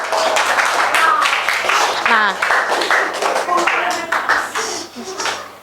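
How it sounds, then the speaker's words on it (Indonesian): A class of children claps for two students, Ali and Azam, in a school classroom; steady clapping runs through the clip under a teacher's voice and some children's chatter. "Terima kasih untuk Ali dan Azam. Tepuk tangan teman-teman."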